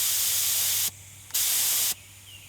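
A paint spray gun run at 40 PSI gives two strong, steady hissing bursts, each about half a second long, separated by short gaps of quiet air-line hum.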